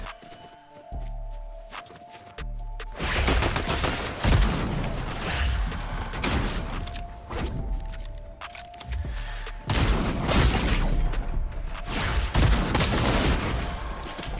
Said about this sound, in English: stop shooting the gun!